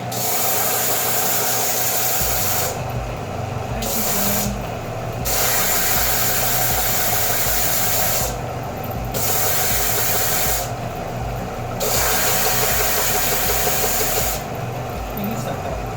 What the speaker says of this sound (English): I'm just doing some sanding.